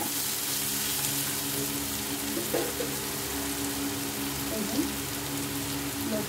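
Ghetkol (elephant-ear plant) stems frying slowly on low heat in a pan, a steady soft sizzle with faint crackles and occasional stirring scrapes, close and continuous with no talking.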